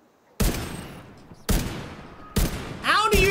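Gunfire in The Division 2, three sharp loud bursts of shots about a second apart, each decaying with echo, the last followed by rising tonal game effects.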